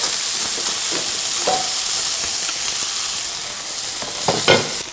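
Browned chicken pieces frying in a pan for chicken cacciatore, a loud continuous sizzle and crackle with occasional stirring clicks, close up and without voices.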